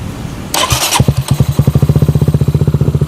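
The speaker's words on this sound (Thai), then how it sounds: "มาสตาร์ทรถกันดีกว่า" Honda Dream 150 motorcycle starting up: a brief electric starter whine, a few sputters, then the single-cylinder engine catches into a fast, even idle of regular close thumps.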